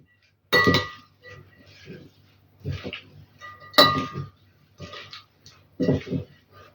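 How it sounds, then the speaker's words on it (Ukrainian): Scattered clinks and clatters of dishes and utensils as a shrimp, arugula and tomato salad is moved onto a plate, a few sharp strikes among softer scrapes, close by with quiet pauses between. "І тепер перекладаю салат на тарілку"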